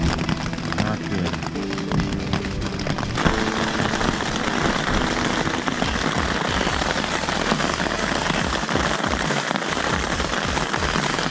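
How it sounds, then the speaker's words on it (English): Hail pelting down during a thunderstorm on the John Muir Trail, a loud, dense, continuous clatter of rattling impacts that stays steady throughout, with no voice on top. "Probably some kind of hailstorm, and it's thundering and lightning."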